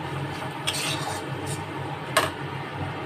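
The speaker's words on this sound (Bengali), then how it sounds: "দিয়ে ভালো করে নেড়ে নিই।" A utensil scrapes and clinks against a pan while rohu fish curry is stirred. A few brief metallic scuffs rise over a dull, steady background, and nobody speaks.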